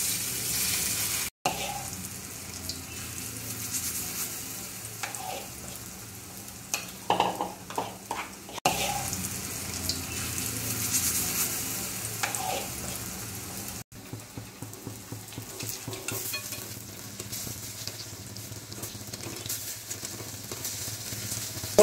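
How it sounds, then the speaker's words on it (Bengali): Fritters (bora) fry in oil until reddish, giving a continuous bubbling sizzle with bursts of rapid spatula scraping and tapping against the pan, close and fairly loud throughout. "বড়াগুলো একটু লাল লাল করে ভাজতে হবে"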